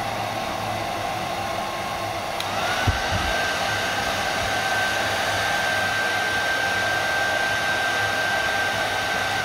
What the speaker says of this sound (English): now I am switching off the hair dryer